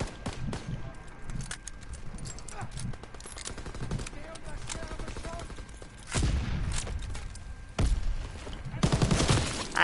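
Video game gunfire in a multiplayer match, rapid bursts and single cracking shots with a heavier sniper-like report near the end, under players' talk.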